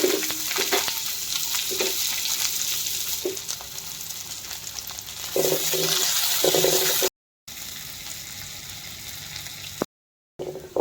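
Chopped onions frying in hot oil in a pan, a continuous close sizzle with stirring clatter and brief gaps.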